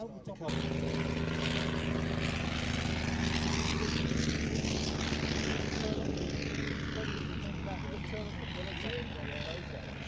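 A 1913-designed Avro 504 biplane flies at an air show, its rotary propeller engine droning steadily and loud throughout, swelling and shifting as it passes, with a commentator talking over it.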